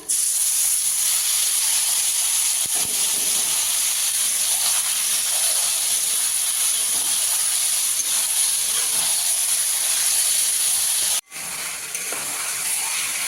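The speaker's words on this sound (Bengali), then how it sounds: "এবার ম্যারিনেট করা মাংসটা দিয়ে দেবো।" Marinated chicken hitting a hot pan for a country chicken curry with papaya gives off a loud, steady broadband hiss and sizzle that holds for about eleven seconds, then dips sharply and resumes a little quieter.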